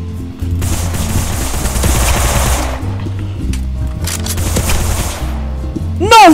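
Rapid gunfire from a Roblox pistol 1v1 match, a dense run of loud repeated shots layered over game music, with a brief break and a final sharp sound near the end.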